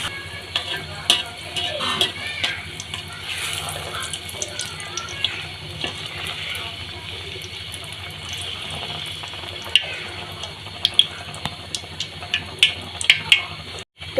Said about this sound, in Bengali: তো বন্ধুরা আমি এভাবে সবগুলো পিঠে ভেজে নিচ্ছি।